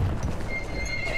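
Horse in the video game Battlefield 1 whinnies and neighs while hooves clip-clop beneath, loud and close across the short stretch.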